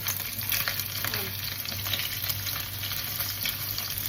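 Meat frying in its own rendered fat in a pan, a dense continuous sizzle and crackle at close range with faint scraping, no talk.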